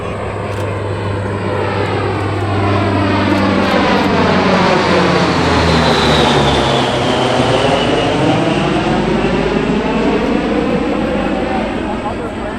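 A C-130 Hercules turboprop flies past at the Cleveland National Air Show, a loud, steady engine roar with rising and falling pitch sweeps as it passes, continuous for the whole stretch.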